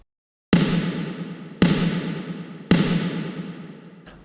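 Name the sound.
snare drum with long reverb tail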